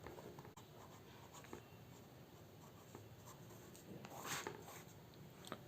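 A gel pen with a plastic grip writes on paper, a faint, steady scratchy scribble of continuous strokes close by with no speech.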